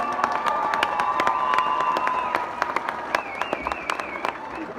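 A graduation ceremony crowd in Karabük applauding and cheering, dense loud clapping mixed with shouts and whistles, the cheering easing slightly toward the end.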